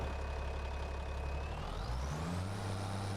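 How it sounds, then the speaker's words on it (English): Engine of an older Deutz-Fahr Agristar tractor in Farming Simulator 25, a steady low rumble that shifts pitch near the end as the revs change, close and continuous with no talk. "Nice engine noise as well."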